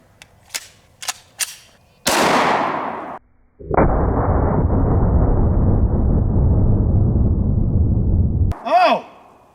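A Guncrafter Industries Glock 50 pistol chambered in .50 GI fires one loud, sharp shot at a zombie torso target after a few light clicks. A long, steady hiss follows the report, then a short whistling sound.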